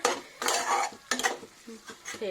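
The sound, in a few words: stirring and frying tomatoes with meat in a pan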